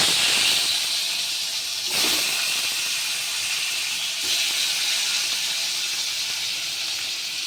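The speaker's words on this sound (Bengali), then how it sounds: "3 পিস কাতলা মাছ আগে ভেজে নিচ্ছি।" Three pieces of catla fish fry in hot oil, giving a steady, loud, close hiss that runs unbroken with slight surges and no talk.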